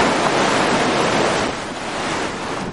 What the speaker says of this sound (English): There's just rushing water all around me.